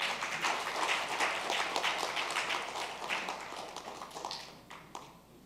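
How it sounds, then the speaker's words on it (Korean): A church congregation claps together in a sustained, dense burst of applause that fades out toward the end, heard from within the room. "박수 한번 할까요?"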